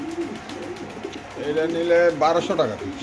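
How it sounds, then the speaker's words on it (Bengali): Black racer pigeons at a pigeon farm give soft, low cooing calls, close by and repeated. A few of the coos rise louder toward the end over a faint background. "এটা হলো ব্ল্যাক রেসার কবুতর লাল ট্যাগ দেওয়া আছে"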